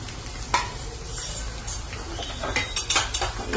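A hot tempering of curry leaves and hing sizzles as it is stirred into chutney, with a steady frying hiss and sharp clinks of a spoon against the pan, close by.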